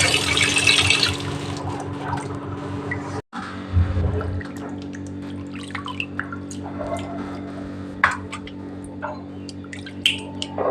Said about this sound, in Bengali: তো এদিকে দেখো মাছটা ধোয়া হয়ে গেছে।